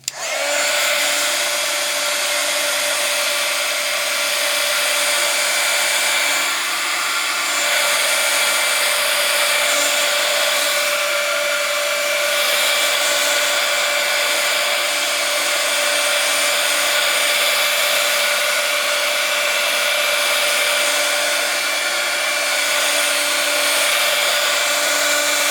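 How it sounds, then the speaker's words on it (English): A heat tool blowing steadily as it dries a mixed media project, a loud continuous whooshing roar with a faint steady whine that runs unbroken for about twenty-five seconds, with no talking. "the key to using a heat tool is when you're just drying something off like this"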